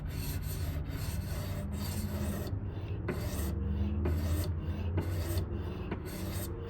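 A knife blade is drawn against a sharpening stone in a continuous, steady grinding rub that runs unbroken at fairly close range, with no voices over it.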